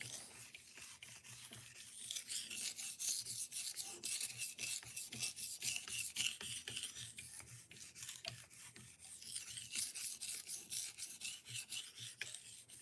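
A knife blade rasps steadily against a diamond sharpening stone in long, repeated strokes, up close and continuous with a gritty, scraping texture and no voices.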